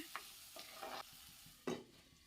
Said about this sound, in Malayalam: ഇതിന് നല്ലതുപോലെ ഒന്ന് വഴറ്റിയെടുക്കാം നല്ലതുപോലെ ഇളക്കിയ ശേഷം